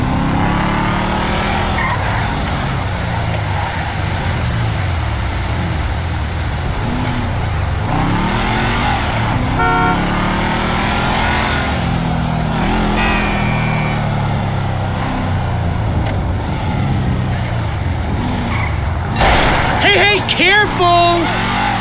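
A car in GTA 5 is driven recklessly, with a roaring, revving engine and repeated tire skids and squeals that build to a harsher screech near the end. Characters talk and shout over the driving noise throughout.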